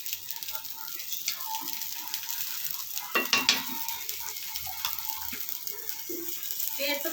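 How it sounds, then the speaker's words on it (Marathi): Methi paratha frying in ghee on a hot pan, a steady bright sizzle throughout with a few louder crackles and scrapes midway, fairly close, no talking. "आता मी हा दुसरा पराठा टाकत आहे। बाजूने तूप सोडून घेऊया।"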